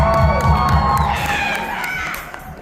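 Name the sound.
comic con crowd cheering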